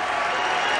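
A basketball crowd at Pitt's Fitzgerald Field House rises to its feet, filling the arena with loud, steady, dense applause and cheering with no break.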